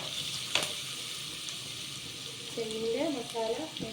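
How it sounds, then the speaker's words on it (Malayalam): Ginger garlic paste is stirred into a frying prawn masala, giving a steady sizzle, a sharp utensil clink early on, and a brief voice toward the end. "ഇച്ചിരി ഇഞ്ചിയും വെളുത്തുള്ളിയും പേസ്റ്റ് ഇട്ട് വീണ്ടും നന്നായി ഇളക്കി കൊടുക്കാം"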